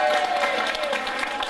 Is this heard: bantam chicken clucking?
no